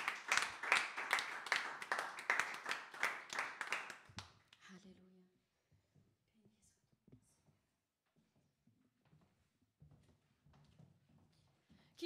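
A loud burst of sustained clapping from a church congregation for about four seconds, then it dies away into quiet murmuring and scattered small noises.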